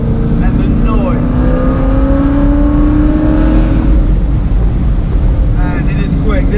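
A 730HP Corvette engine drones loudly from inside the car while driving, with rising and falling revving tones over heavy wind and road rumble.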